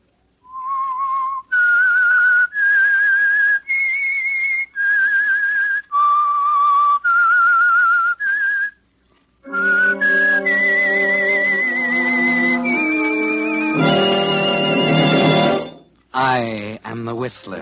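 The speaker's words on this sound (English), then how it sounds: "That whistle is your signal for the Signal Oil Program" A lone human whistler whistles a melodic signal tune for the Signal Oil Program radio show, a series of sustained, steady notes, loud and close. An orchestral passage swells in partway through.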